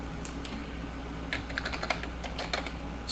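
Computer keyboard keys clatter in quick, uneven bursts as a search term is typed into a Windows help window, the clicks close and crisp over a low steady hum.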